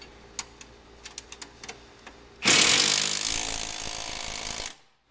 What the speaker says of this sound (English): And now we'll tighten up the front ones now that ones we installed.